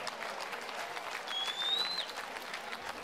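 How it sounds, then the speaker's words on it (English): Applause from a crowd at a CSFC mixed martial arts event in Sheffield, a steady wash of clapping that fills the hall, with a brief whistle cutting through midway. "Would you please continue your applause for a great opponent from AVT in Dewsbury, Nazam Zeb."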